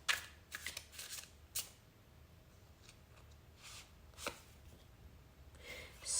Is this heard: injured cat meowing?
no